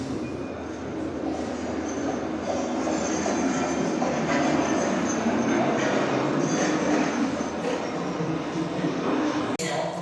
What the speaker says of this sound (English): Who doesn't love a little miniature railway?